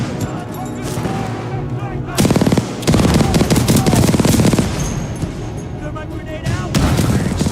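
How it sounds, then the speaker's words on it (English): Rapid automatic gunfire and booming fire from a video game battle, dense and loud, building in sustained bursts with a sharp surge near the start and continuing heavy volleys throughout. "Commencing supporting fire."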